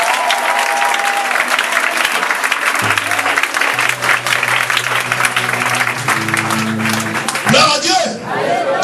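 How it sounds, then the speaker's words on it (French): A church congregation applauds and cheers in praise of the Lord, a loud, dense wash of clapping that goes on for several seconds, with voices shouting and a sustained tone rising through the crowd. "je veux que tu acclames le Seigneur pour moi"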